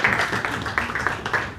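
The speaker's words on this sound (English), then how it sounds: "Let's clap for them again." Audience applause for participants at a university entrepreneurship bootcamp: a steady, dense patter of many hands clapping at once, fairly close and continuous through the short stretch.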